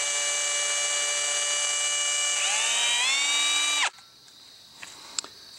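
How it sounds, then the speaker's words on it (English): A cordless drill with a very small bit bores into the center of a candle, a loud steady whine that shifts pitch partway through before cutting off, followed by faint handling clicks. "drill that out using our cordless drill and just a very small drill bit"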